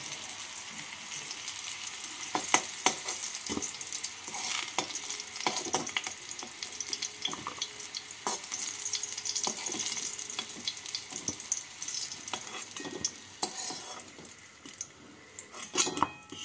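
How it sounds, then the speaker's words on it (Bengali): Pumpkin pieces frying in a pan, a continuous sizzle broken by scattered spatters and occasional clinks of a utensil against the pan, close and moderately quiet; no talking. "কুমড়োগুলোকে একটু লাল করে ভেজে নিলাম।"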